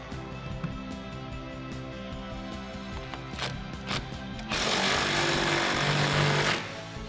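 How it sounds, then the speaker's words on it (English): A 9/16 deep socket tightens a nylon lock nut onto a tonneau cover stud on a 2009-2018 RAM 1500, making a steady close ratcheting rattle with a few sharp clicks, then a louder buzzing stretch before it stops. "Grab your 9/16 deep socket and tighten that guy down."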